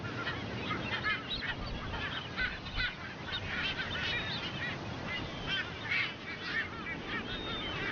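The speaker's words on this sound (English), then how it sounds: "They are Ascension Island frigates, found nowhere else on Earth." A colony of Ascension Island frigatebirds on a small offshore rock in the Atlantic gives dense, overlapping honking and croaking calls, continuous and close, with no voices.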